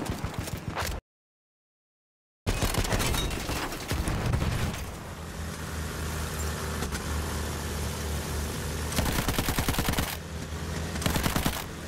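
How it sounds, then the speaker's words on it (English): Automatic gunfire rattles through the World War I shooter Battlefield 1, rapid bursts over a droning engine rumble, loud and close, with a sudden silent gap near the start and heavier fire toward the end. "It seems like they're shooting at us."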